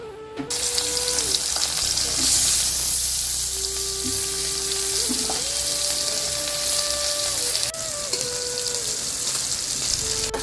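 Mustard oil sizzles steadily in a pan while chapila fish is cooked with eggplant, potato and radish, a constant close hiss with faint clinks and tonal kitchen hum, no talking.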